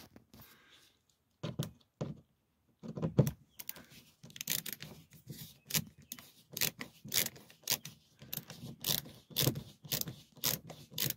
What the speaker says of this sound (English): So let's put it on the screwdriver. And take it off.